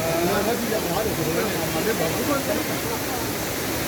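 Steady, loud rushing of Düden Waterfall in Antalya, Turkey fills the whole recording, a dense roar with voices faintly present underneath.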